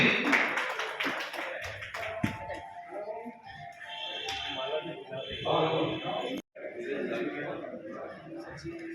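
Applause at a journalists' workshop and annual conference in India, with scattered clapping and taps mixed under steady chatter, a loudspeaker voice and some chuckling from the gathered crowd.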